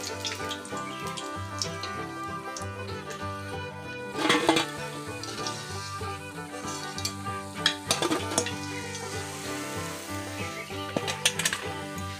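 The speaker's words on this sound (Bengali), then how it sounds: "এবার দ্বিতীয় ধাপেরগুলো ভেজে নিচ্ছি" Chhana jalebi bubble and sizzle in frying oil, a continuous close crackle with occasional clattering utensil knocks and bursts of louder spitting throughout.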